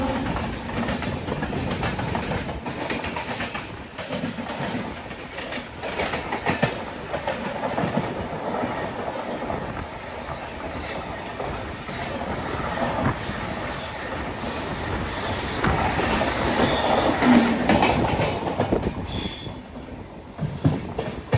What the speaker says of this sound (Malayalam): ഒരു ട്രെയിൻ വരുന്നുണ്ട്, തിരുച്ചിറപ്പള്ളി ചെന്നൈ എഗ്മോർ ചോഴൻ എക്സ്പ്രസ്